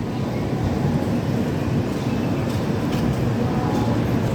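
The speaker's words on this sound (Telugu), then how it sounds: "సో మన ట్రైన్ అయితే తిరుపతి స్టేషన్ నుండి అయితే బయలుదేరిపోయింది." Train 16504 pulls out of Tirupati station with a steady, loud low rumble and roar of rolling stock close by. It holds constant throughout, with faint clatter above it.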